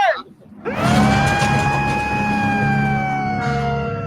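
A siren starts the Cajun Navy search-and-rescue games, winding up quickly into a loud, steady wail that holds near and strong, with crowd noise underneath.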